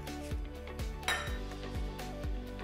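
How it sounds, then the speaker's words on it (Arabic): A metal steaming rack set down inside an Instant Pot's inner pot with water, for steaming a whole cauliflower, gives a series of close, regular metallic clanks and rattles, with one brighter clink near the middle. "نجيب رف التبخير كمان ونحطه بكعب الانستنت بوت"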